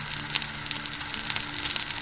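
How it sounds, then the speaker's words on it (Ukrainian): Steady frying sizzle of rolls in a covered pan, with a soft, continuous crackle, close and fairly loud, no voices. "Під кришкою смажимо по 5-7 хвилин з кожного боку до золотистої скоринки."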